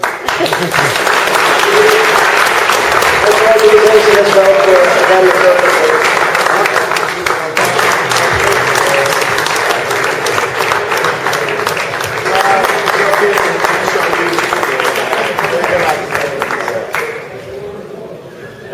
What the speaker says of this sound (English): Alright, applause for them.